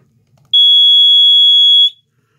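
One shrill, high-pitched electronic alarm tone from an AC condensate pump's water alarm hanging on a furnace sounds for just over a second, loud and steady, then stops abruptly in a quiet room.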